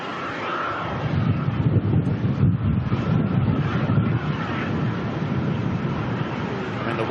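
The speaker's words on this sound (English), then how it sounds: "Oh, and there's some winds too." Strong wind buffets the microphone at Melbourne Airport, a loud rumbling roar with gusty swells that continues without a break, no talking.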